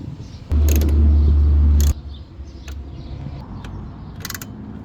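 Ratchet tightening the headlight mounting bolts on a Ford Transit into a plastic mount, a short burst of close mechanical clicking and grinding followed by quieter handling noises.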